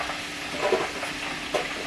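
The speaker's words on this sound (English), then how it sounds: "I have 2 pieces frying" Two pieces of food fry in hot oil, a soft continuous sizzle with faint stirring bursts, close and fairly quiet.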